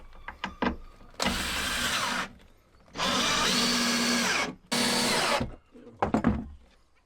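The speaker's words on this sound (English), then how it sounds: "somewhere I've got my drill and some screws. So we'll just start up in this corner." A power drill drives screws into a campervan fold-out bed in three sustained whirring bursts separated by short pauses, with light clicks and handling knocks between runs, close and loud.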